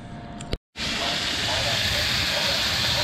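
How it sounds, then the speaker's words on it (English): Beef tenderloin sears in a hot pan with a loud, steady, broadband hiss that starts abruptly after a brief silent gap and continues unbroken. "We're browning the meat off."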